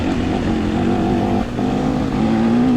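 A KTM 300 XC-W dirt bike on a motocross track in Maryland, its two-stroke engine droning steadily and loudly up close, pitch shifting slightly as the throttle changes.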